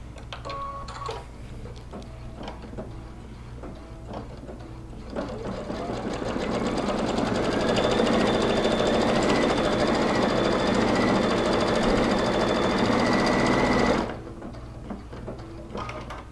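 Sewing machine stitching the last strip onto a quilt heart block, a steady rapid mechanical whir that swells louder midway and runs continuously for several seconds before stopping abruptly, with quieter handling noises around it.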